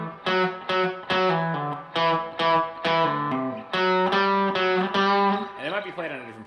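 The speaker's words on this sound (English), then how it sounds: "And then the second guitar that comes in, I think it's after 2 times around, sounds like this." Electric guitar plays the second harmony part of a riff, a distorted, galloping run of picked notes in repeated phrases, loud and close, with no talking over it.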